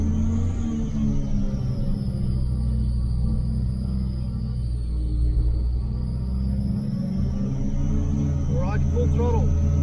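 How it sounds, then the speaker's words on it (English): A flex fuel Nissan GT-R runs on a dyno, its engine a steady, loud low rumble and hum that holds throughout as it is shifted up through the gears to fourth, with a brief rise in pitch near the end. "Into second gear, into third gear, and into fourth, the gear that we're going to do the power run in."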